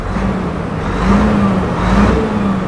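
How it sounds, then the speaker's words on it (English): A big 2008 Renault Magnum 460 hp truck diesel engine idles loudly, then revs up twice in slow swells before settling back down. "we're just going to give it a couple of revs here"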